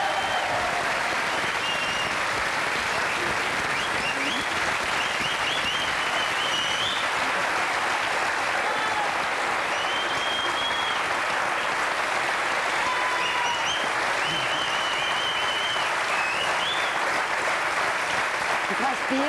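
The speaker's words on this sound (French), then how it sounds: "je vous demanderai d'applaudir" Sustained, loud audience applause at a French television variety show, a dense wash of clapping from a large studio crowd that holds steady throughout without letting up.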